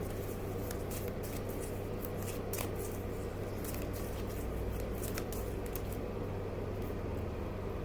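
Steady papery riffling of cards being shuffled, a continuous soft flutter with occasional sharper snaps over a low background hum.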